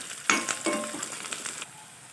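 Curry leaves and chopped coriander hit a hot oil tempering with onion and are stirred, giving a close, crackling sizzle with a few stirring scrapes that cuts off well before the end.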